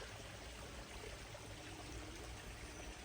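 Steady rushing and splashing of a small garden waterfall beside Japanese maples in spring, a continuous broadband water flow with no voices.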